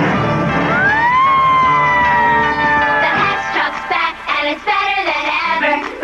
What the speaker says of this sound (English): Cool flashing lights, a real horn and siren, and a giant ladder that goes up, up, and away.